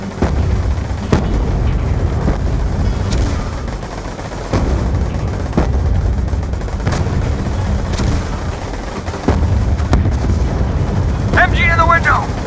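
Machine gun fire in Black Ops 2, heavy and sustained, with booming impacts and sharp cracks at irregular intervals, under shouted voices and battle noise.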